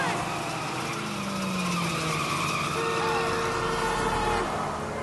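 A car in the video game GTA Liberty City Stories drives fast and skids, with a steady engine drone and tire squeal gliding over it, loud and sustained throughout.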